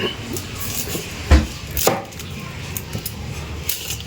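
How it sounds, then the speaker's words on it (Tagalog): A knife chops onion on a cutting board in a few irregular, close taps, one or two sharper than the rest, over a quiet kitchen background. "susunod naman natin ngayon gagayatin guys ay ang ating sibuyas"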